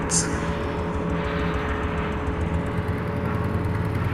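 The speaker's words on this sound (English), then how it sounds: "Let's get the old Porsche out" An old Porsche tractor engine in Farming Simulator 25 drones steadily at close range with a low, even rumble and a faint high whine, while a voice talks over it.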